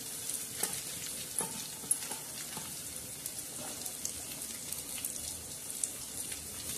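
Onion tempers in hot oil for a cluster-bean, tomato, green chili and garlic dish, giving a soft, steady sizzle with scattered crackles and pops throughout.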